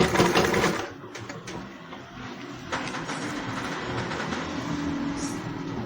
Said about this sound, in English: start stitching all the way up